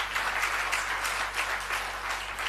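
A congregation at a prayer gathering claps together in a brief, rhythmic burst of applause, fairly close and steady, with a low hum underneath.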